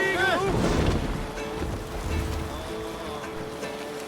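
Viking longship sailing out across the sea in Assassin's Creed Valhalla, a steady wash of water and wind beneath voices talking, with a brief tonal rise at the start.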